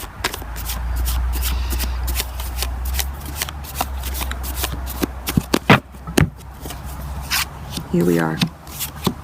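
Tarot cards being shuffled by hand during a love tarot reading, a steady riffling and sliding with sharp slaps and taps toward the end, close and under occasional soft speech.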